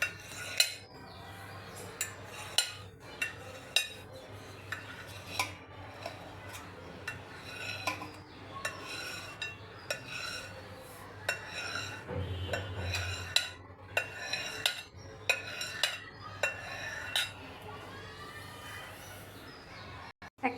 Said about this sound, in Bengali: একইভাবে সবুজ কালারের জেলিটাও আমি কেটে নিচ্ছি ছোট ছোট কিউব আকারে।